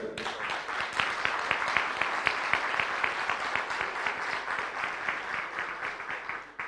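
An indoor audience at a political meeting with community representatives claps steadily, a dense, even round of applause that holds at moderate loudness for several seconds without speech.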